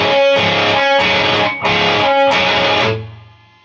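Distorted electric guitar plays the intro riff in loud, sustained strummed chords, three or four heavy hits with a slide between them, ending in a decaying ring.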